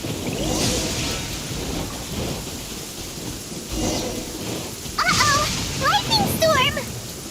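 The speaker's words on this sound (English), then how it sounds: "Lightning storm!" Thunderstorm with rain in the video game Genshin Impact: steady rain hiss with low thunder rumbles rolling in and out, then sharper crackling bursts near the end, all under a voice talking.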